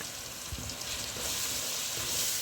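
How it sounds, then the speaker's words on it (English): Biryani spice, turmeric, black pepper and mixed masala frying in oil in a pan for mutton curry, giving a close, continuous sizzle that grows slightly louder, with a faint stir or two. "So let all this fry, guys"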